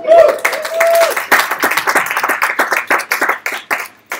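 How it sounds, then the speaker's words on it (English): A live audience at an event claps for a panel guest being introduced, loud and close, with a brief voice at the start before energetic clapping carries on and gradually thins. "Round of applause."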